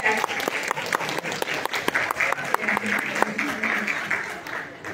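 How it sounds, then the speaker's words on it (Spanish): Audience applause at a labor forum on workplace dignity, a steady patter of many hands clapping for the full length at moderate level, with a faint murmur of voices beneath. "Aplausos para todas estas compañeras."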